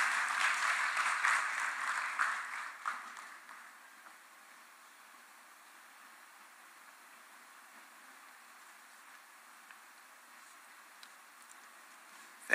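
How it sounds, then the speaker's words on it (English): An audience at the 18th COMESA Business Forum applauds the COMESA Secretary General, with loud clapping at first that fades over a few seconds into faint room noise. "let's give her a round of applause"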